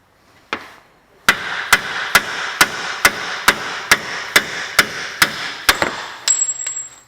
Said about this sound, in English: You turn it all the way, you can hit it better with a hammer.